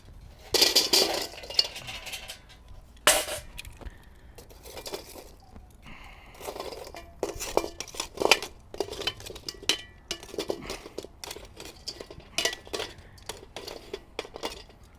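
Charcoal coals dumped into a Weber Jumbo Joe grill for searing steaks, giving scattered rattling clinks and crackly tumbles, close and uneven, with no talk over them.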